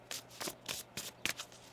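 A deck of tarot cards is shuffled by hand, with several quick, crisp riffling bursts spaced unevenly over a quiet background.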